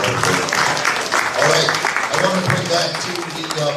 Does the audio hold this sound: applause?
yes